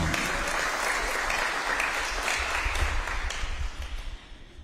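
Audience applause at a high school student introduction, a dense steady clapping wash across the whole stretch that thins slightly toward the end.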